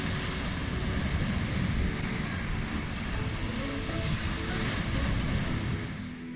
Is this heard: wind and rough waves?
yes